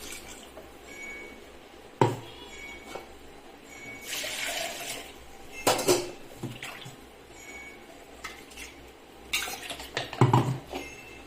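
Water is poured and swished over mushrooms in a metal pan in a home kitchen, with clattering utensil knocks and several splashy bursts of running water, close and fairly loud.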